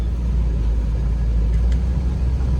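A 1981 Chevrolet Camaro Z28 engine running during a ride, a loud, steady, deep rumble heard from inside the car with no talk.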